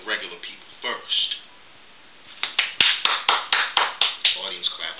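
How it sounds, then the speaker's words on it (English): Audience applauding a live one-man comedy show reenactment, scattered claps building into a brisk run of sharp, evenly spaced claps after a brief lull, with some talk mixed in. "Audience claps."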